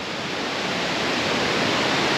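Continuous broadband rush of a nearby waterfall and river beside a cabin area, loud and steady with no breaks or voices.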